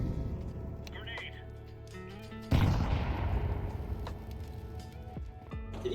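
Decoy grenade in a first-person shooter game mimicking gunfire, a sudden loud burst of rapid popping that sets in midway and carries on under game noise, with players talking over it.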